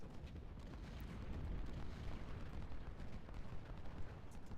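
Gunfire in the Civil War strategy game Ultimate General Civil War, a dense, faint, crackling rumble of massed musket volleys that rolls on continuously with no clear breaks.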